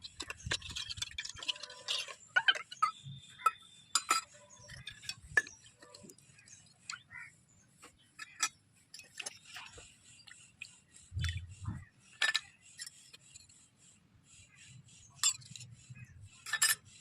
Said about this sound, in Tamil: ஒரு வழியாக ஜாமானை கழுவி முடிச்சாச்சு